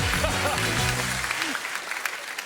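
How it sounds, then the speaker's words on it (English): A television studio audience breaks into applause after a comedian's phone stunt, a dense wash of clapping that stays loud throughout while a voice speaks over it. "ladies and gentlemen, big round of applause"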